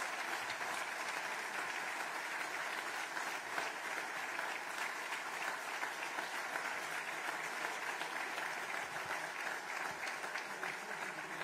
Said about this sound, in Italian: vi chiedo per lui un grande applauso